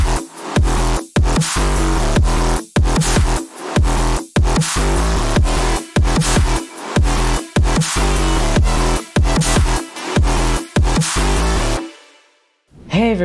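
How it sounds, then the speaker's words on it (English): A heavy EDM mid-bass synth pounds out rhythmic, buzzy and growling bass stabs with short gaps between hits, loud and dense throughout, ending abruptly in near silence. "Thankfully, I'm here to show you how to make heavy mid basses that sound like"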